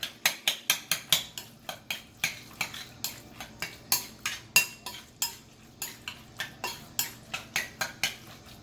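Salmon and egg are mixed in a bowl, a quick series of sharp utensil clicks and scrapes against the bowl in a fast, fairly regular rhythm, close up with no talking.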